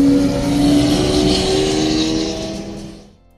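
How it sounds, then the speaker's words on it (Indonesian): A Lamborghini drives past on a toll road with a loud, close engine roar carrying a steady pitched tone, then fades quickly at the end. "Di perjalanan ini ada Lamborghini juga nih yang bareng melintas di tol itu ya"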